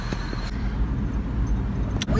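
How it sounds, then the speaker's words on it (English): A car drives along, giving a loud steady low road rumble and engine drone throughout, with a faint jingle of keys or rattle near the end. "We are driving."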